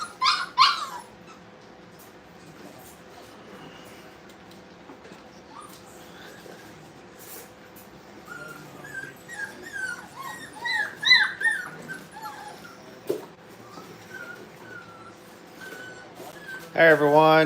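Puppies at a training kennel whimper and yip in thin, high squeaks, scattered at first and then busier toward the end, with a loud burst of whining at the close and a human voice now and then.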